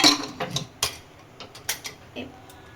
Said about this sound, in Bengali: এবার ঢাকনাটাকে বন্ধ করে দিচ্ছি।